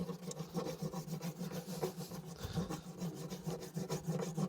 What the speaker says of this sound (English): take you some hardened propolis, and you rub it on the inside of the hive just like this